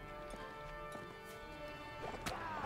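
Horse hooves clop in a steady rhythm amid a medieval battle in Mount & Blade: Warband, the faint gait under a dense background of combat noise, with a brief sharper burst near the end.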